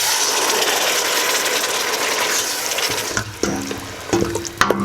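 Curry powder being stirred into browned onions frying in a hot pot, a steady loud sizzle that eases near the end as a spoon scrapes and clinks against the pot a few times.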